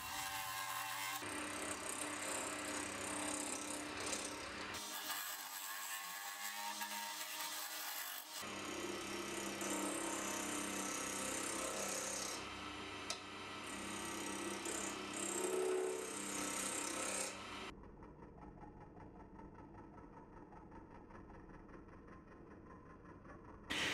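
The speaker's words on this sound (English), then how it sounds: "The round scraper works really nice with the resin." A wood lathe turns resin and olive wood against a round scraper, giving a continuous close rasping, scraping whir that shifts in tone between passes and thins out near the end.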